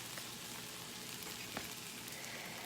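Tomato and garlic sauce sizzles steadily in a hot pan, a continuous close frying hiss with faint crackles and no talking.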